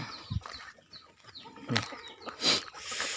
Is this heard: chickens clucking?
yes